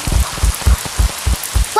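Rain falling in a Pocoyo cartoon scene, heard as a steady patter with rhythmic low thumping drops repeating about every quarter second, moderately loud, with no talking.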